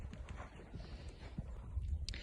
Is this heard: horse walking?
yes